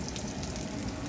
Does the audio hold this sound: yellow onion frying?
yes